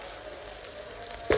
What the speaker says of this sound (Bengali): পেঁয়াজ আমার ভাজা ভাজা হয়ে গেছে